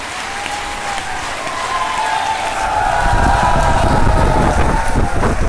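Sustained applause from an audience at a Hindi kavi sammelan poetry gathering in Hathras, dense steady clapping that swells louder partway through and carries on with crowd noise and a faint tonal hum underneath.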